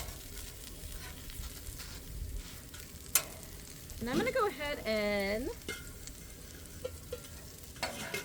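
Oil sizzles and crackles steadily as chicken fries on a hot griddle, while a person talks briefly over the frying.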